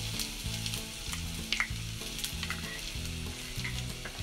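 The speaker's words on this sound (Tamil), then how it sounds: "வாசனை வர அளவுக்கு வதக்கி விட்டுக்கலாம்" Crushed cumin, pepper and garlic sautéing over a low flame for moringa leaf rasam, a close steady sizzle with occasional stirring scrapes and pops, no voices.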